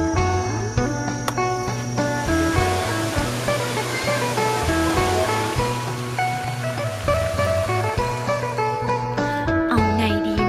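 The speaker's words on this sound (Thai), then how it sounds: "บ้านเรามีน้ำตกนี่นะ" A village waterfall in Kalasin, Thailand rushes in a constant loud roar, with some faint tonal sounds layered over it throughout.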